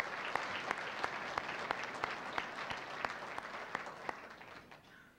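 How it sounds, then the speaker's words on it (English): Audience applause fills a hall during an athletic hall of fame induction ceremony, steady moderate clapping with a few sharper individual claps standing out, lasting about five seconds before fading. "Let's give all this group a big round of applause."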